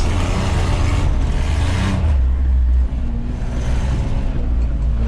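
Old Nissan overland rig doing a burnout, its engine roaring loud and close with a rough, sustained drone and a drop in pitch midway, continuing hard to the end.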